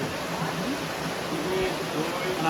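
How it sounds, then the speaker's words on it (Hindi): Steady broadband rush of falling water, a continuous wash of noise with no breaks, close and fairly loud. "एकदम शांत से पूरा पानी एकदम झरना के आवाज आबि रहल छै चारू तरफ"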